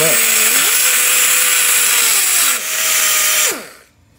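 A rotary tool spins a worn sanding roll against an engine piston during prep, a loud steady high whine that dips in pitch under load, then winds down and stops near the end.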